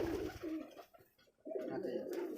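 Rajshahi Giribaj pigeons cooing, soft low rolling coos repeating close by, with some background noise and no clear voice over them.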